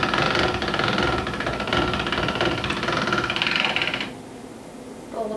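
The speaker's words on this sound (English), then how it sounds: "So in the pasta machine." A hand-cranked pasta machine rolls a sheet of homemade spinach pasta dough, giving a steady close mechanical whir and rattle for about four seconds before stopping, followed by a quieter pause and a brief renewed rumble.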